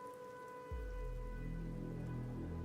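Rain sets in suddenly in Arknights: Endfield, a soft hiss of drops on surfaces swelling into a steady, dense downpour over a low, constant rumble.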